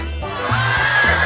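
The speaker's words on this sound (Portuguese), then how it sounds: "Oh, cavalo!" A horse on a farm gives a short, loud whinny that rises and wavers close to the listener, heard alone without talk.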